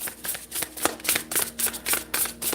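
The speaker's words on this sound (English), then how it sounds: "This is shuffling very weird." Oracle cards are shuffled by hand in a quick, even rhythm of crisp riffling bursts, close and clear with no voices.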